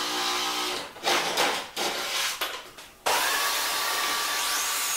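A track saw cutting wood for a built-in wardrobe, a loud whining motor rush that dips and surges through two cut passes, then a sustained steady cutting roar near the end.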